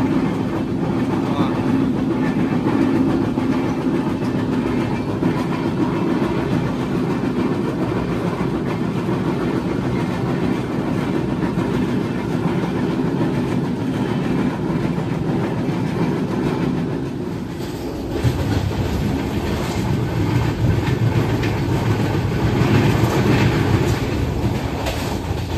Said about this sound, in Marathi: तुफानी पाऊस पडता आणि ट्रेनने पण आता फुल स्पीड घेतला ना